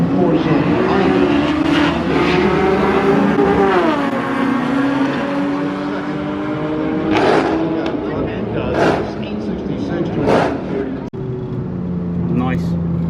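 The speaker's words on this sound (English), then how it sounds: "Infinity with a double overhead cam V6 takes on a little four-cylinder Honda." An Infiniti Q50 with a twin-cam V6, tuned for E85, drag racing a small four-cylinder Honda at a track; loud engine runs with rising revs and shift changes, heavily overlaid by talk.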